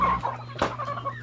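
Growing chicks on a farm clucking close by, a few short calls over a steady low hum, with one brief louder burst in the middle.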